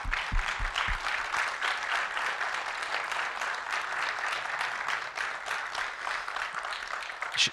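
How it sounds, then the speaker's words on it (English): A meeting audience applauds a county assistant auditor-controller with steady, moderately loud clapping that holds evenly for several seconds, a few low thuds near the start. "And could we clap?"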